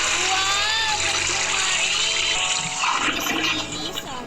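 A loud rush of water swirls and gushes steadily, like a toilet flushing close by, with faint voices in the background.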